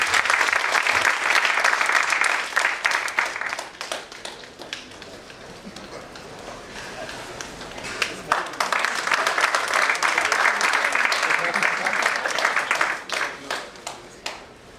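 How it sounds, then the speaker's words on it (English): Seminar audience applauding as a memento is presented to the chief guest: dense, sustained clapping that swells, eases off in the middle, then rises again, with some voices mixed in. "A big round of applause, please."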